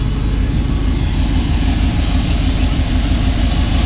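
A 1965 Ford Cobra replica with a 427 V8 and a 650 dual-line double-pumper carburetor idles loud and close, a dense, steady low rumble with an even throb throughout and nothing else over it.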